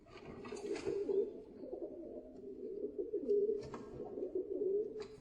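A barb pigeon cooing close by, soft low repeated coos rolling in a continuous rhythm with a few light rustles, no talk.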